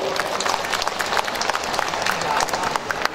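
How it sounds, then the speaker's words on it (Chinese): An audience claps warmly for calligraphy and painting artists at a founding ceremony of an overseas Chinese calligraphers' association in Jakarta. Dense, sustained applause fills the room, with a few voices mixed in. "请大家再次以热烈的掌声向艺术家们表示热烈的祝贺"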